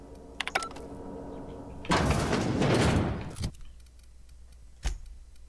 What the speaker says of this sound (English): Unsealed door.